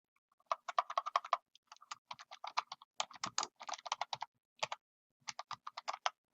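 Crisp keystrokes on a computer keyboard as a folder name is typed, clicking in quick clustered bursts separated by short pauses, close and clear with no voice.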